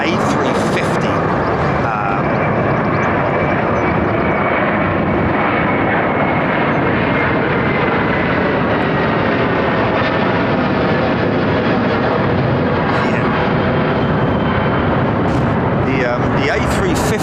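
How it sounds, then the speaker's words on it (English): An Airbus A350 departing runway 09R at London Heathrow thunders past overhead, a loud, sustained broadband jet roar that fills the whole stretch, with a voice talking over it. "A350."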